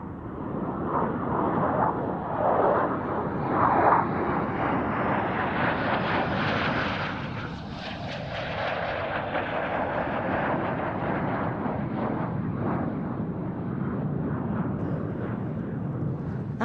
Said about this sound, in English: our first section of F-16s, an F-16 BM from the Belgian Air Component, an F-16C from the Hellenic Air Force